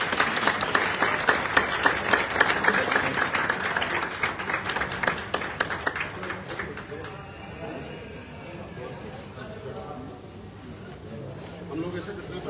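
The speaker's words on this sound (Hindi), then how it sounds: "उनके लिए भी एक जोरदार तालियां।" Audience applause with loud, dense clapping for family members being honoured at a Hindi-language gathering, tapering off into quieter crowd noise and light talk after about seven seconds.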